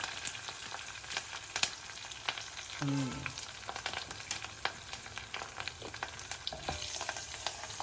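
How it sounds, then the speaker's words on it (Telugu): Curry leaves and asafoetida spluttering in hot oil for a tempering, a soft even sizzle dotted with small pops and crackles, with a brief clattering scrape partway through, no speech. "పోపు బాగా వేగాలి పచ్చిగానే తీసేయకూడదు"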